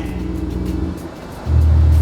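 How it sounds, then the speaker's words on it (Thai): A simulated Audi V10 car engine sound: a deep, droning hum that drops briefly, then surges into a louder, steady low roar, heard alone without talk. "ฟังเครื่อง V10 ของ Audi ไหม"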